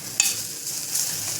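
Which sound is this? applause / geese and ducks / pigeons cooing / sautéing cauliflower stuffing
sautéing cauliflower stuffing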